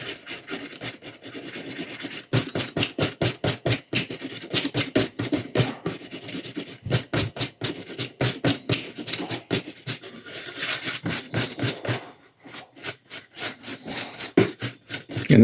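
A brass rod scrapes and rasps as it is pushed into the foam-filled interior of a hollow cast model leg, in steady back-and-forth strokes, close and fairly loud, with no talking.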